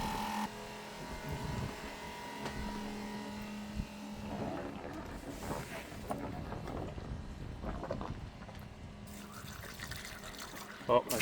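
Water runs from a boat's tap fed by a self-priming pump, a steady trickling flow with a faint pump hum underneath, close by, while a person talks and moves things around intermittently.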